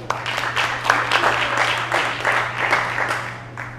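Audience applause in an evening talk hall, a dense, steady wash of clapping at moderate level that holds for several seconds with no voices over it, a low electrical hum running underneath.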